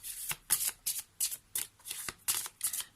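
A deck of Lenormand cards shuffled by hand in quick repeated riffles, about eight crisp, papery bursts in an even rhythm, close and clear with no speech.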